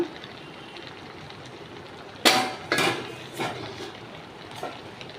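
Shrimp dropped into a pan of softened malabar spinach (puishak) give a few sharp clattering splashes and thumps, then quieter stirring scrapes, over a low steady cooking hiss with no talk.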